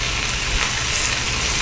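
Kara vadai batter frying in hot oil, a dense, steady sizzle and crackle close by, loud and continuous with no talk.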